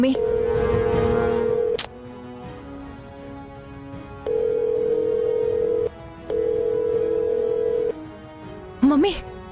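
A telephone rings in repeated steady electronic tone bursts separated by short gaps, loud and close, with a brief sharp click near the end.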